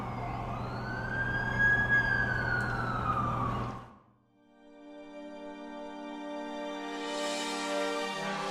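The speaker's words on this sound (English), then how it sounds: "That's the ambulance I called." Ambulance siren from The Amazing Spider-Man 2 video game, a loud wailing tone that rises and falls, cuts out abruptly, then returns as a steadier wail that swells toward the end.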